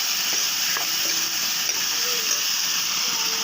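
Spice paste sautéing in a pan for dim curry, giving a steady soft sizzle and hiss with faint stirring scrapes, fairly close and continuous.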